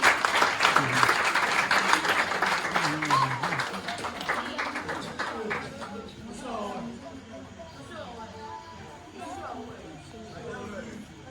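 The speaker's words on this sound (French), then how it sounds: "Sous vos applaudissements, s'il vous plaît." Audience applause at a certificate-of-merit award ceremony: dense, steady clapping from many hands fills the first half, then fades as chatter and voices take over.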